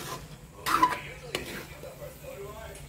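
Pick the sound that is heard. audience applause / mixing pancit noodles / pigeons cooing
mixing pancit noodles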